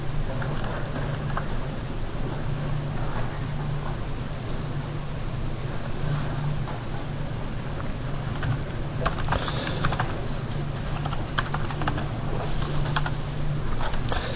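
Steady computer keyboard typing for the whole stretch, close and continuous with rapid clustered keystrokes over a constant low background hum.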